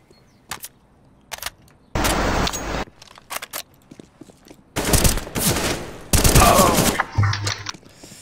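Gunfire in the video game CS:GO: several loud bursts of automatic rifle fire and a few single shots, separated by short quiet gaps.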